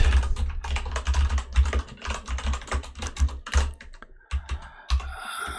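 Rapid, uneven keystrokes on a computer keyboard while writing Java code, close and clear with short pauses between bursts of typing and no talking.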